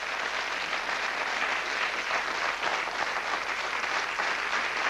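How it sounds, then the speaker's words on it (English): A studio audience on a radio quiz show applauds with loud, even, sustained clapping that holds a steady level from start to finish, with no talking over it. "A round of applause for Tony Hacking."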